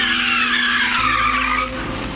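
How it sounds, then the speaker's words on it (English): A VW Polo GTI performs a handbrake turn, its tires skidding and squealing loudly and continuously for about two seconds over the engine's steady hum, with no talking. "So can it perform seamless handbrake turns?"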